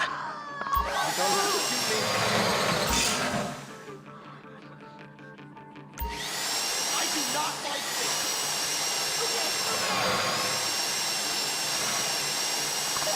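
A power drill whines loudly and continuously with a brief pause in the middle, then revs up again at a high pitch.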